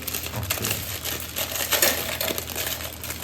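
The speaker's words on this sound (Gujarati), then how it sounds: "બિસ્કિટ તોડી અને આપણે મિક્સર જારમાં લઈ લઈશું." Biscuits snapped by hand into a mixer jar while making a chocolate cake, heard as close, dense crunching and crackling with short sharp breaks and no talk.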